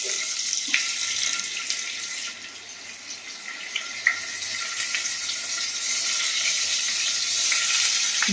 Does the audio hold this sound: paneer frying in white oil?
yes